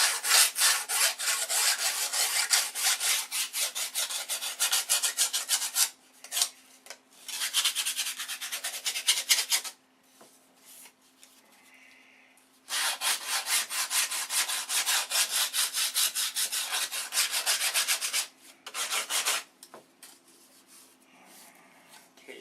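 Sandpaper rubbed back and forth over a coated workpiece during stack sanding, steady scratchy strokes in long bursts with short pauses between, close and fairly loud, no talk.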